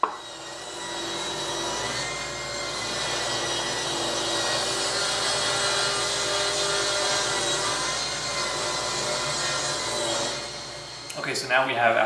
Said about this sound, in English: I'm gonna go ahead and start there over on the table saw